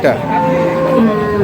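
A dairy cow at a cattle market lets out a single long, loud moo close by, lasting the whole moment with a low, drawn-out tone.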